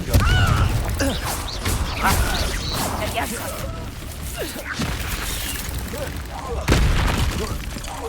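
Incendio fire spell blasts in a Harry Potter video game duel: sharp booming bursts and crackling impacts come several times over a busy combat mix, with loud hits near the start and end.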